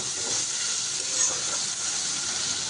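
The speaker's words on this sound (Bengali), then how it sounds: "মশলাটা এবার একটু কষিয়ে নেব।" Spice paste thinned with a little water sizzles steadily in a hot pan as it is stir-fried, a continuous close hiss and crackle with faint stirring scrapes and no voices.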